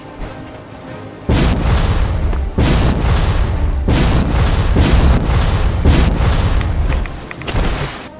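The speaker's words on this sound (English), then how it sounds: "It comes with an awesome looking jetpack that allows you to shoot up into space" A power armor jetpack in Fallout 4 fires in a series of loud, booming roaring blasts, each burst cutting in abruptly and rumbling for about a second before the next.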